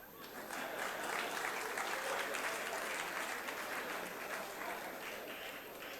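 An audience in a parliamentary chamber claps during a South African budget speech, a broad, continuous wash of applause rising quickly and holding steady for several seconds.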